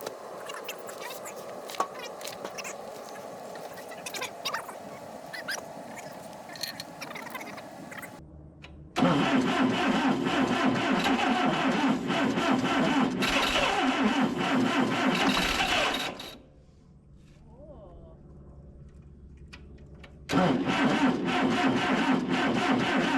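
An Allis Chalmers i40 tractor with a freshly rebuilt engine and new high-compression pistons cranks on its starter in two long, loud, steady grinding bursts separated by a quieter pause, with background noise between them.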